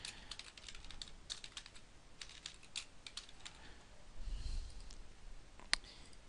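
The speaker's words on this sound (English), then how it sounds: "So I'm just going to type it in." Fast, uneven keystrokes on a computer keyboard clatter nearby in quiet bursts, with one sharper key click near the end and no voices.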